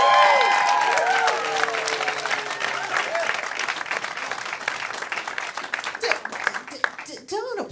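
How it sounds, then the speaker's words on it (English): A comedy club audience applauds a stand-up comic, a dense burst of clapping that starts loud and gradually thins and fades, with a voice heard faintly at the start. "Don't applaud for that."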